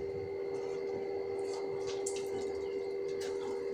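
Hot water squeezes and drips out of soaked soya chunks being pressed by hand in a home kitchen, a few soft splattering trickles over a steady background hum.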